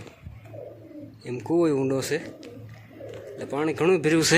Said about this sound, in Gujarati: અંદર જો કબૂતરા બોલે છે